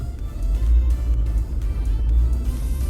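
A pink 2024 Jeep Wrangler Sahara drives along, its engine and road rumble low and steady from inside the cabin with no talk.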